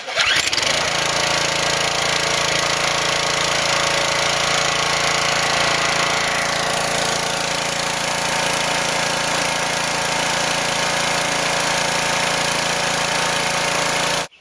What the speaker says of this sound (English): Here's the older Briggs and Stratton engine that's on the log splitter.